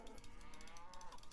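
A cow moos in the video game Age of Empires II, one short, faint, steady lowing call heard alone for just over a second.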